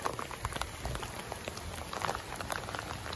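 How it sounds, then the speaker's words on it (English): Light rain patters steadily on a driveway, a dense, even hiss of small droplets with no voices. "You can just see the rain coming down now."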